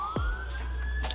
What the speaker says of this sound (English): I heard an ambulance coming,